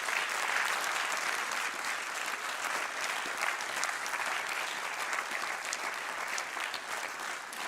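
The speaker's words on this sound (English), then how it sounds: "applause from our audience." An audience claps steadily for winners of the 2020 education prize, with dense, even applause holding from start to finish and no voices standing out.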